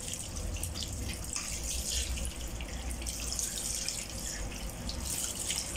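Stem lettuce being washed under a running kitchen tap, a steady broadband rush of water splashing into a sink that holds even and close for the whole stretch, with no talking.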